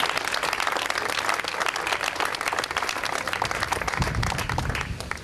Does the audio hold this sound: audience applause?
yes